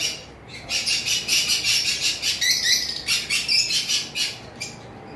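Dense, rapid chirping and squawking from several caged lovebirds, continuous and fairly close, with a busy, rhythmic chatter throughout.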